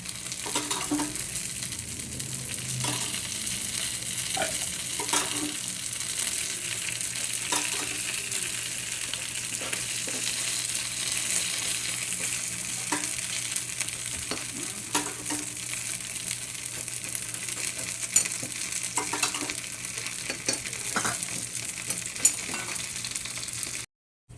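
Appe with peas and carrots fry in oil in an appe pan, a long, steady close sizzle with faint occasional taps, ending abruptly.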